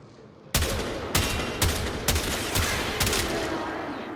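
Rapid bursts of gunfire from an enemy kill in the video game Warframe, five or six sharp loud shots at roughly half-second intervals over a steady rumbling game background, with no talking.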